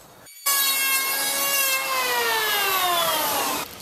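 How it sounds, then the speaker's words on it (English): An electric planer shaves the edge of a wooden Dutch door, a loud whining cut lasting about three seconds with a falling tone, starting and stopping abruptly. "So I'm just going to run my planer on here until the gap of this old hinge is gone."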